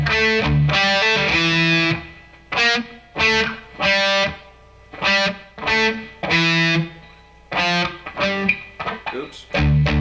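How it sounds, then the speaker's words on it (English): Distorted electric guitar plays the second guitar part of a song slowly, in separate phrases of picked harmonic-rich notes broken by short pauses, loud and close with no other instruments. "This is guitar number two still."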